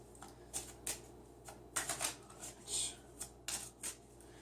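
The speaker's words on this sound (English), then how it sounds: "let's give the deck a good shuffle" A deck of Angel Prayer Oracle cards is shuffled close up in repeated quick riffling bursts, with brief pauses between them.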